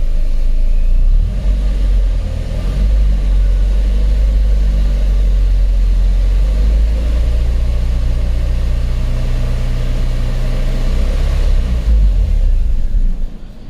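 A 2008 Mazdaspeed3 with a 2.3 L engine and manual gearbox, which has a stalling fault, cranks and catches, then idles steadily with a loud, close, low rumble for about twelve seconds before cutting off.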